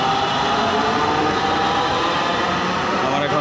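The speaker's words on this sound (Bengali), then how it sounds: "একটা ট্রেন চলে যাচ্ছে" A metro train passes through a station, producing a loud, steady rumble and rush of wheels and air that fills the whole stretch without letting up.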